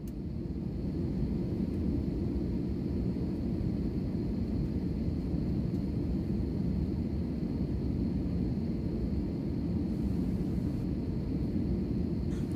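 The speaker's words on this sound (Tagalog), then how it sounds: "pag ganitong pa-take off na ang mga aeroplano" Steady, loud roar of an airliner cabin during takeoff, a broad low-frequency rumble that holds constant throughout with no voices.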